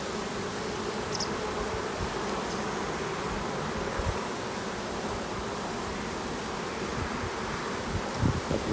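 Honeybees around a spring beehive that is ready to swarm hum in a dense, continuous buzz, close and steady, with occasional faint rustles.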